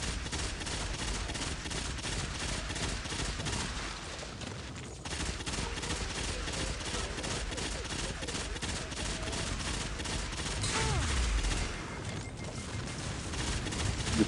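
Rapid, continuous gunfire from the Bad Juju rifle in the shooter Destiny, a dense, steady stream of shots lasting throughout with a brief lull partway, loud and close.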